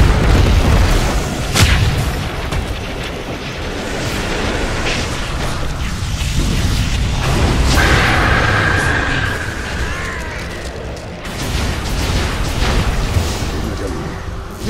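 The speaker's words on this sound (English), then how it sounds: "Radiant's bottom tower is under attack." Tower under attack in the game Dota 2, a dense roar of booming impacts and battle noise filling the whole stretch, loud and continuous with rumbling bursts throughout.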